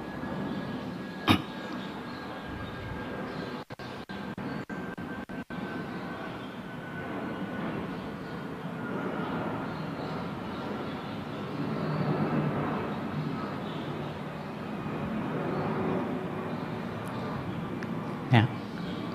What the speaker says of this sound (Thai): เครื่องบินที่บินผ่านไปแล้วก็เป็นเรื่องธรรมดา